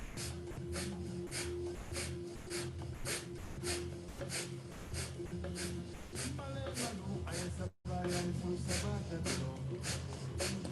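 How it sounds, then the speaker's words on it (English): Rapid, forceful exhales through the nostrils repeat in a steady pumping rhythm during a breath-of-fire exercise, close and clear, with a short pause before the sharp puffs resume. "And now I'm sniffing the breath out through my nostrils."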